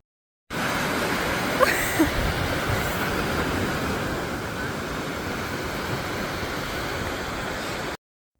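Waves wash onto a beach at sunset as a steady, broadband surf roar that holds evenly throughout, with no talking.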